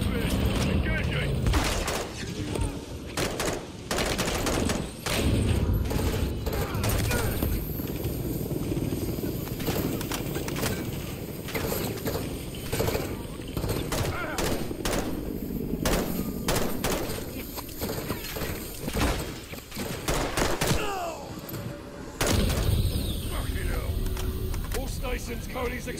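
A helicopter fight in Call of Duty: Modern Warfare 3, with rapid bursts of automatic gunfire aimed at the helo over a constant mechanical drone. Radio-style voices talk throughout, and the shooting continues in dense, uneven volleys.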